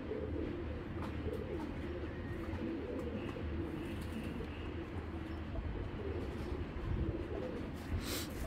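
Racing pigeons, kept with their eggs and chicks, coo in soft repeated rolls over a steady low background hum, with a brief sharper sound near the end and no voices.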